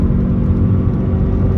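Lexus UX250h 4WD hybrid compact SUV accelerating gently, a steady loud low rumble and whir heard from inside the cabin, with no talking.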